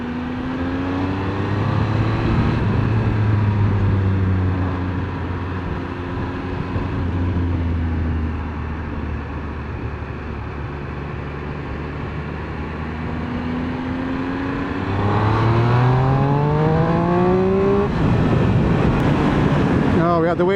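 Triumph Street Triple RS motorcycle engine revving hard on a road ride, rising harmonic whine as it accelerates through gears with a surge near the end during a wheelie, heavy wind buffeting throughout and a rider talking over it.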